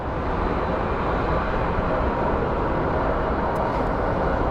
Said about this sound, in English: That's a cool plane.